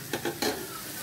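Banana stem poriyal is stirred in a pan, with three quick scraping strokes over a soft continuous sizzle.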